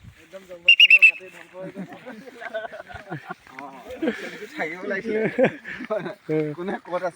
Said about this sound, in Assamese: কোনফালে আছে হুইচেল মাৰি দিলে গম পাব ৰিজাৰ্ভৰ ভিতৰত।